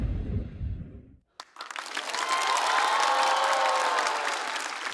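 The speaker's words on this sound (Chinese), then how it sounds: "我们掌声再次送给英宁。" A stand-up comedy show's audience bursts into loud, sustained applause and cheering after a brief pause, with dense clapping filling the hall and then slowly easing.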